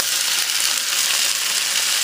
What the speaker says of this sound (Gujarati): હવે આપણે શું કરશું કે અહીંયા આ નાખી દઈશું એની અંદર આપણી બ્રોકોલી